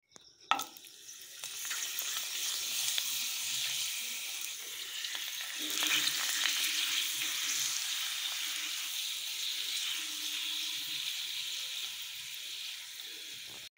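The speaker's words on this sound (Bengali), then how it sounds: "দেখো পাঁপড়গুলো ভাজা হয়ে গেছে" Papad frying in hot oil, a steady bright sizzle running for the whole stretch, close and fairly loud, with a few soft clinks and stirring sounds and no voice.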